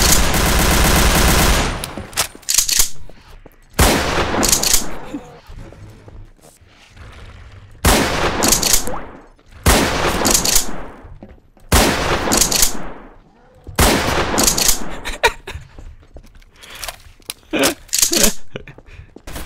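Gunfire in Garry's Mod DarkRP comes in repeated loud bursts of rapid automatic shots separated by short pauses, with a voice briefly audible between volleys.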